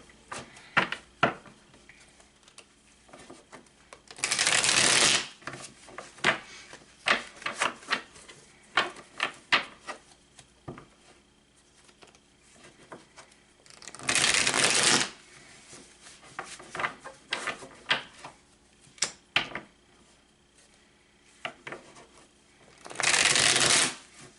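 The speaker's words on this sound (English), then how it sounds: "That was a good shuffle." Cards are riffle-shuffled three times, each a loud burst of rapid fluttering, with quieter handling, tapping and card placement in between.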